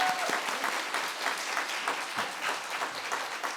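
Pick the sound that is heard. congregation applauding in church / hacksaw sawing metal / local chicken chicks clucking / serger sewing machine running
congregation applauding in church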